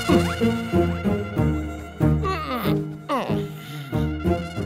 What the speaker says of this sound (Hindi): आधी रात को एंसेफलाइटिस वायरस से इन्फेक्टेड मच्छर ने उसे काट लिया